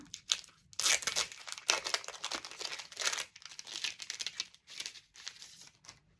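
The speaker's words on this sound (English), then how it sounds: "Here is another package of patterned paper." Packaged patterned scrapbook paper from an ephemera and art journaling supply set is handled close up, giving repeated crisp crinkling and crackling bursts of plastic wrap with short pauses between them.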